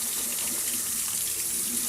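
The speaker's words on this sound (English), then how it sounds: "Then I'm going to turn the water on nice and cold." Cold tap water runs steadily into a kitchen sink while canned food is rinsed, a continuous close splashing stream with no talking.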